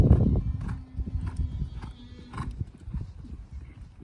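Horse hooves canter across an arena during a jumping lesson, a steady rhythm of muffled thuds set against low background noise with a faint hum, and a distant voice heard briefly.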